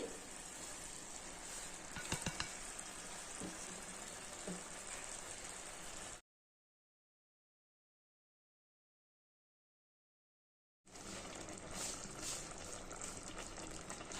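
Ridge gourd curry with chili powder and gravy cooks in a pan, giving a steady close hiss and bubbling sizzle that cuts out to silence for a few seconds, then resumes.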